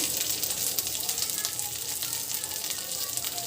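Chicken pulao masala frying in a pan, a steady close sizzle with crackling that holds evenly throughout, no talking.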